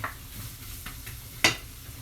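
Chopped onions and a garlic clove fry in olive oil in a frying pan, a quiet steady sizzle broken by a few soft scrapes and one sharper clink as the pan is stirred.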